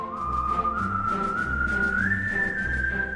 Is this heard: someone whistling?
yes